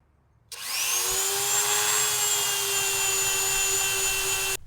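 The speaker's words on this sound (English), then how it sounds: "drilled some holes for the screws and got the gear screwed into place on the wheel" A power drill boring screw holes into an electric skateboard wheel to mount a gear: a loud, close motor whine that starts abruptly, quickly rises in pitch and then holds steady for about four seconds before cutting off.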